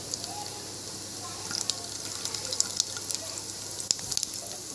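Mustard seeds, cumin, fenugreek seeds and urad dal tempering in hot oil for idli sambar, giving a soft steady sizzle with faint crackles and small pops near the end.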